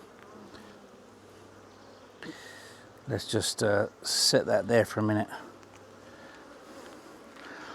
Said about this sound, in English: Lots and lots of bees.